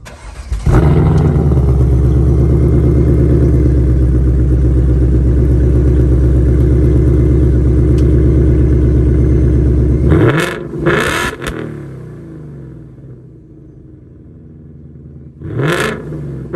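A 2021 Ford Mustang Mach 1 with the Handling Package and an X-pipe exhaust rumbles loudly and steadily up close, then drops off into sharp throttle blips and a final rev as the engine settles.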